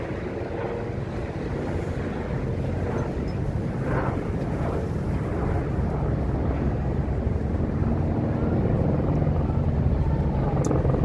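Wind buffets a microphone on a chilly Las Vegas night street, a steady low rumbling roar that builds slightly and holds, with no voices over it.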